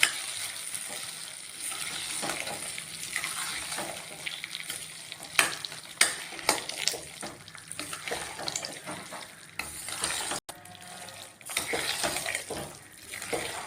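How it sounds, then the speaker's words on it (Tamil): Fried tempering stirred into vegetable pongal, giving a continuous close sizzle with repeated scraping and clinking of a spoon against the pot, moderately loud, with a brief sharp break near the end. "இந்த தாளிப்பை இப்போ பொங்கலில் கொட்டிக்கலாங்க நல்லா கிளறி விட்டுக்கலாங்க"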